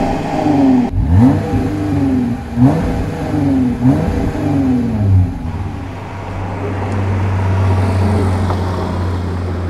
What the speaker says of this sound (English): So let's start her up and see what she sounds like.